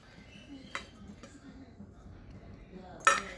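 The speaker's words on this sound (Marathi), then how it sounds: "मिक्सरच्या भांड्यामध्ये भाजून घेतलेला कांदा खोबरं घालून घेऊयात" Roasted onion and coconut go into a mixer jar while preparing a paste for a village-style mutton dish. Two light metallic clinks ring out over quiet kitchen background, the second one sharper and louder.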